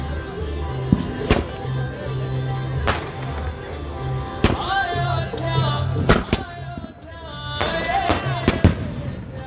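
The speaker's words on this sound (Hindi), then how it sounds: "ये देखिए ज़बरदस्त आतिशबाजी का नज़ारा आज यहाँ पर देखने को मिल रहा है।" Sky shot fireworks burst one after another at a Diwali celebration honoring Rama's return to Ayodhya in Ajmer. The sharp booms and crackles land at irregular intervals, some near and loud, over a steady crowd murmur.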